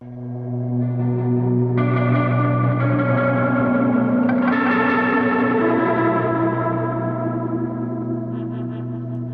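An electric guitar through a cassette-style chorus pedal plays sustained chords with a warm, wavering chorus shimmer and a slightly warbly, tape-like character, heard alone and fairly loud.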